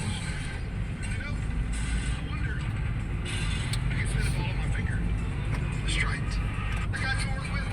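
Steady street traffic with passing cars and vehicles, heard as a continuous low rumble with occasional brighter engine and horn-like tones, while a person talks over it throughout.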